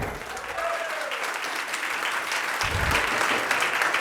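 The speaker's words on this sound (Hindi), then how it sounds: "अरे इतने हंस रहे हो तो हंस के तालियां भी बजा दो यार," Steady applause from a live audience at a Hindi-language talk, filling the whole stretch at a moderate distance, with a faint voice briefly heard near the start.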